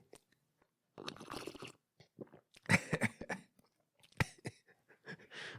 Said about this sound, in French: Tiens, je vais prendre une gorgée pour vous le démontrer.